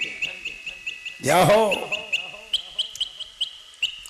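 Birds and fowl call repeatedly, with sharp regular chirps and quack-like cries spaced through the scene. A louder voice cries out briefly near the start, and the calls continue alone afterward.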